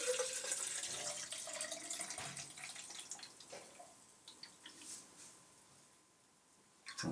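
Water poured steadily from a tap into a storage jar to make black-and-white film developer, a continuous hissing splash that gradually softens before a brief louder burst at the end, close by with no talking.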